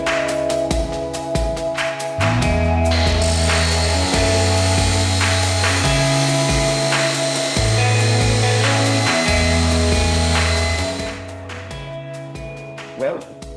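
A power saw cuts steel profiles for a DIY router cart, its motor spinning up to a loud, steady whine with strained tonal shifts as the blade bites the metal, then winding down near the end.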